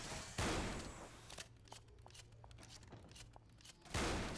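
Pump shotgun in Left 4 Dead 2, two loud blasts at the start and end with sharp clicks, pumps and scattered distant shots in between, a faint low hum underneath.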